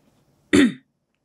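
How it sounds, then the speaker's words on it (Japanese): An old man gives a single short cough, close and fairly loud, rising out of near silence and fading within a fraction of a second. "老人は咳を一つした"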